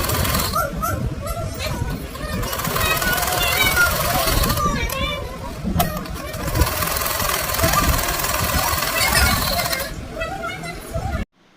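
A sewing machine stitching fabric, its motor running in a steady mechanical whir and clatter that speeds up and slows across several bursts, with background noise from the room around it.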